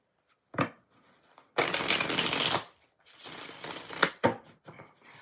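A deck of tarot cards being shuffled by hand, with several crisp riffling bursts of varying length separated by brief pauses, close and clear with no talk.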